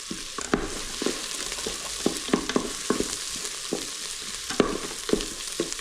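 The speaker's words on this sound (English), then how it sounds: "we always fry off our spices whenever we're using spices." Spices fry and sizzle in a pot at the start of a lentil stew, a close, steady crackle punctuated by sharp clicks and taps of stirring, with no talking.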